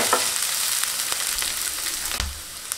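Cabbage and carrot stir-frying for atta noodles, a continuous sizzle with scattered sharp clicks of stirring, up close and without talk.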